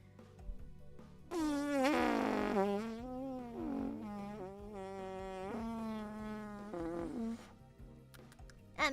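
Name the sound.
person imitating fart noises with their mouth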